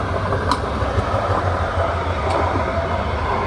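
A Newcastle Light Rail train rumbles along steadily, loud and close, with a continuous roar and a few faint high clicks from the wheels.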